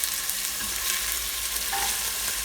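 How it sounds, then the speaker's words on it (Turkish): Celery and other vegetables sauté in a pan for borscht, giving a soft, steady sizzle with faint stirring at close range and no talking. "Sonrasında kereviz sırasıyla sebzeleri ilave ediyoruz, soteliyoruz."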